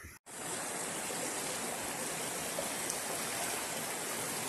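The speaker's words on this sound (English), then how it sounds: "There's a river down there of water." A river flows below, a steady, dense rushing wash of water that continues unbroken after a brief dropout at the start, with no voices.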